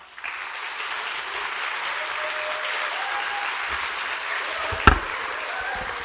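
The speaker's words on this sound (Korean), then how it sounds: "이 강대상에 올라오실 때 크신 박수 부탁드리도록" An audience in a church applauds as a comedian-elder steps up to the pulpit to give a testimony. The clapping is a steady, full wash of hands that builds after a quiet start and carries on for several seconds with one sharp thump near the end.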